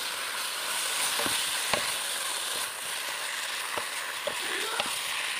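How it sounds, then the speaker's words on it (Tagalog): Chicken pieces dropped into hot oil with sautéed onion, giving a steady loud sizzle with scattered pops and brief clatters of stirring throughout. "Medyo nagisa na rin at ihulog ko na yung chicken."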